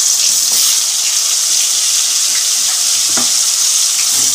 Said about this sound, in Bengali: এই জন্য আগে আলুটা ভাজতে দিয়ে দিলাম